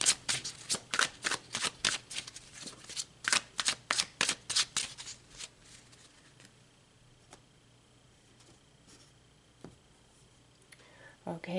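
A deck of tarot cards made of two sets of major arcana is shuffled in rapid, crisp riffling bursts for several seconds, then only quiet handling and faint ticks follow.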